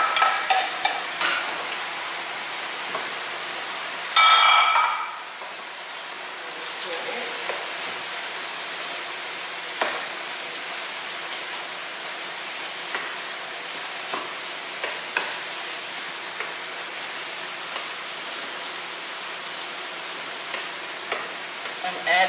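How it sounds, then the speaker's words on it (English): Tomato and carrot cooking in a pan, with a steady frying hiss and repeated scraping stirs at an irregular rhythm, and a louder burst near the start as the vegetables go in. "I'm going to add our tomato and our carrot together."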